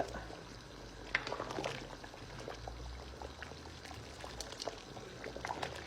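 Lamb sauce simmers in a pot with quiet, irregular bubbling and soft pops over a low, steady cooking hiss, faint and close throughout.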